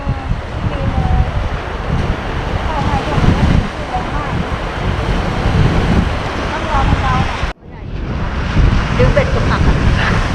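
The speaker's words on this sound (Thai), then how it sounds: "ลมแรงเนาะ" Strong wind blows across the shore at Yin Yom beach in Pattaya during a seaside fishing trip. It is a loud, constant roar with heavy buffeting on the microphone and surf underneath, and it briefly cuts out near the end.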